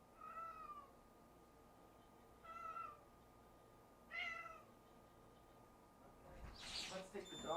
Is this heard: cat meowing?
yes